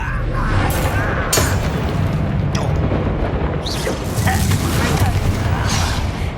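Explosive blasts from the Bombarda spell in Hogwarts Legacy on PS5 rumble through a dense game soundscape, with several booming impacts and debris clatter layered over continuous music and effects.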